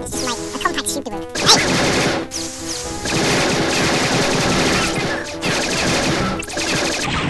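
Overpowered compact gun firing in Star Wars Dark Forces, rapid loud bursts of gunfire with crashing impacts, broken by short pauses, with game sounds and music behind.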